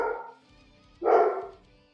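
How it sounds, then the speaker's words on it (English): A dog gives a short vocal sound, then a single close, loud bark bursts out about a second later and fades quickly in an otherwise quiet room. "Dogs are barking."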